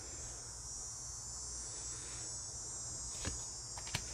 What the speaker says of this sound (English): I don't know if you can hear the cicada